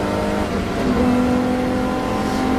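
Pre-1993 touring cars racing at Silverstone, a loud sustained engine roar with a steady high whine held on one pitch, continuous and close without breaks.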